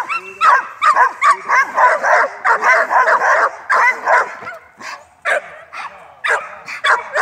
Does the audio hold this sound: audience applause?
no